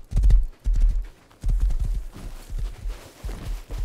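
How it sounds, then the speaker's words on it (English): A horse walks along in the survival game Rust, its hooves clip-clopping loudly and close in uneven bursts of rapid steps with short gaps between them. "Quest, I'm gonna drop this horse off to you."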